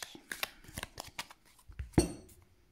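Tarot cards being handled and cut, a quick run of close papery riffles and flicks ending in a soft thump as the deck is set down.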